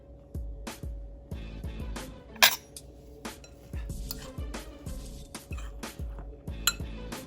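Chopped saltfish fritter mixture stirred in a bowl with a utensil, giving repeated light clinks and scrapes against the dish in an uneven rhythm, close and fairly quiet, with no talking.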